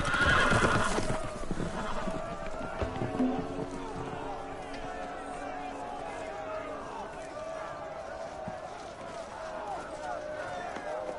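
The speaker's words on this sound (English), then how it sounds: "The horses! They're loose!" Loose horses in a Game of Thrones video game whinny loudly at the start, then hooves clatter in a galloping run amid crowd noise and shouting voices.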